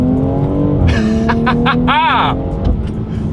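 A 2020 BMW X3 M accelerates hard in first gear with a loud rising engine tone, rapid shifts and a swooping whine, while a voice speaks over it.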